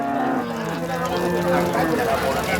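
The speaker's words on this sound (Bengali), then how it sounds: "এটা কি জাতের ফিজিয়ান আচ্ছা ফিজিয়ান জাতের গাভি" A Friesian dairy cow lets out a single long, loud moo close by, with faint voices in the background.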